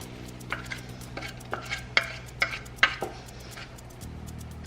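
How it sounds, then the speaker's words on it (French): A spoon stirs marshmallow mixture into a bowl of cereal for s'mores squares, making about eight distinct scraping, clinking strokes at a steady rhythm over a low background hum. No one speaks. "Et on mélange."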